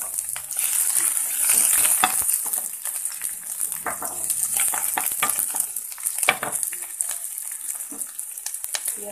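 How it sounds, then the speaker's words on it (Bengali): Chopped onion hits hot oil in a pan for egg paneer vegetable noodles, giving a loud, close crackling sizzle that settles into steady frying with occasional stirring clicks. "পেঁয়াজ কুচিটা দিয়ে দেবো"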